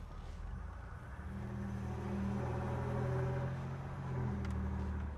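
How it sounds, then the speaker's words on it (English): Buick Grand National under light throttle, a steady low engine drone rising as it accelerates, with a thin turbo whine layered on top, heard from inside the car. "you do hear the turbo whine because this, when you give a little bit of gas"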